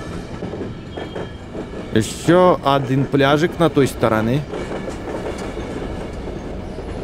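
A moving train rattles and clatters steadily in the zombie survival video game Zompiercer, a continuous rolling rumble with someone talking over the middle of it.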